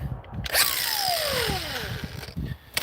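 A power impact tool zaps bolts off the rear axle of a 1976 Ford F100 during a third-member swap: a continuous loud mechanical whir with a falling whine and rattling hammering, close up, easing off at the end.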